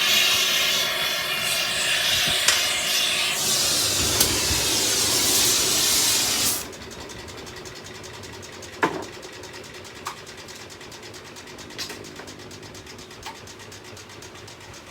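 A jewellery-shop steamer blasts a loud, steady roaring hiss for several seconds, then cuts off abruptly, leaving a quiet room with a few sharp clicks and knocks.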